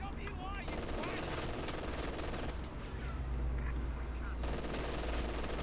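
Machine gun fire rattles through a Company of Heroes 2 battle, dense and continuous under commentary talk, with low rumbling gunfire and battlefield noise throughout.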